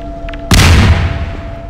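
A grenade explodes in Half-Life 2 with a sudden loud boom that hits hard and then rolls off into a rumbling decay over about a second.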